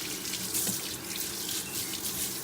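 Warm water runs steadily from a tap into a sink, a close, continuous hissing splash with no pauses.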